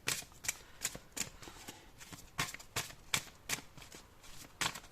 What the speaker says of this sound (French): Allez, on prend une dernière carte.